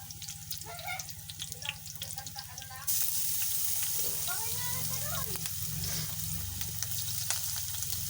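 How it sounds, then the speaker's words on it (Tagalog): Sliced onion drops into hot oil and starts a loud, continuous sizzle partway through, after quieter kitchen sounds and a voice speaking nearby. "Silang natin yung sibuyas."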